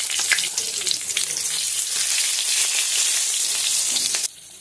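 Cumin seeds hit hot mustard oil and crackle into a loud, busy sizzle with light popping and stirring, which goes on steadily for about four seconds and then cuts off sharply.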